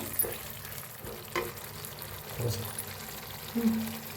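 A spoon scrapes and stirs chicken in a hot pan over a low, continuous sizzle, with a few louder clacks against the pan.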